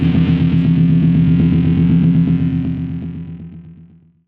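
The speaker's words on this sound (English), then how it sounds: "an electric guitar run through an orange amp or some sort of distortion pedal" A single heavily distorted electric guitar chord through an Orange amp or distortion pedal rings out loud and buzzy, then slowly fades away over a few seconds.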